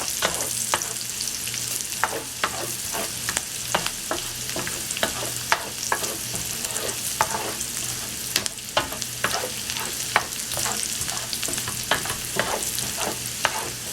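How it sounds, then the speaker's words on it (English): Bacon crisping in a pan for pasta carbonara, a steady high sizzle and crackle broken by frequent sharp scrapes and clicks as it is stirred, close and alone with no talking. "Really just want this bacon to get super, super, super, super crispy."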